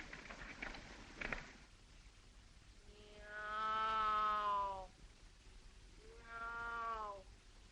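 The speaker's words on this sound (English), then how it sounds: "I'll meow, and you meow back." Two long, drawn-out cat meows, the first longer than the second, over faint background noise after a few soft rustles.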